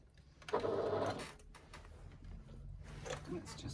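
A sewing machine runs with no stitching taking place, a steady mechanical whir lasting under a second before fading, set among quieter handling noises.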